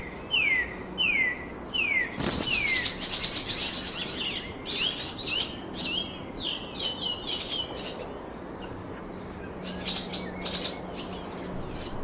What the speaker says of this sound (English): The blue tit, another common garden bird, has a reputation as an ingenious innovator.